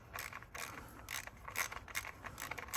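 Ratchet wrench clicking as the spark plug coil bolts on a 2016 Lexus NX200t are snugged into a plastic engine housing, a close run of repeated clicks in short bursts with no talk.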